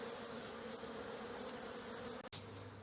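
Honey bees buzzing in flight around a hive in March, a constant droning hum close by, with a brief knock near the end.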